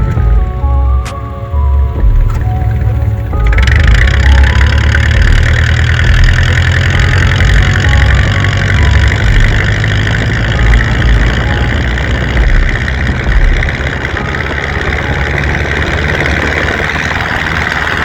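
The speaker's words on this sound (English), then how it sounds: "It sounds so healthy when it's idling now." A Chevrolet El Camino with a newly fitted exhaust idles steadily with a deep, loud, continuous rumble that holds for a long stretch after a brief tonal start.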